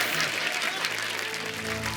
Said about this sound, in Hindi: एक बार जोरदार तालियां अलीशा जी, जस्सी बाजी और नीरज सर के लिए